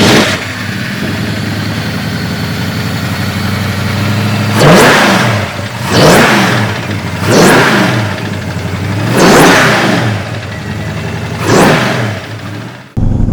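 A 1967 Ford Mustang coupe with a fuel-injected 289 V8 and automatic transmission idles, then revs up and shifts through several gears, with rising and falling engine surges and no talk.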